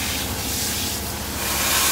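A flat nozzle sprays water to rinse a big dog during grooming, a steady broad hissing spray heard close and continuous, with no talk.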